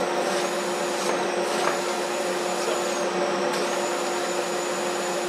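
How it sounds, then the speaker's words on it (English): A dust collector pulls air steadily through a homemade sliding blast gate, giving a continuous, close, even whoosh and hum with a high whine that holds throughout, with no talking. "You can hear the air drawing through that real quick now."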